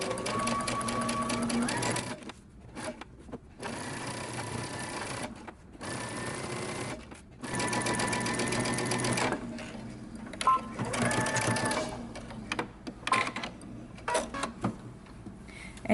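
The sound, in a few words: sewing machine stitching a dress seam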